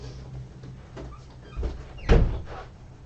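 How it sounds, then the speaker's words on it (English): A door being closed indoors: soft shuffling and handling noises build up, then a firm thud as it shuts, followed by a short rattle. "Let me just go close that door up there."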